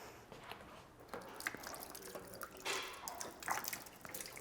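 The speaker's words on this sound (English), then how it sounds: "all you need to do is thoroughly wash your belt and sprockets. You can do this with a water bottle." Water poured from a water bottle over a bicycle's belt drive and sprockets, giving a soft, steady splashing and dripping with scattered drops, fairly faint and without talk.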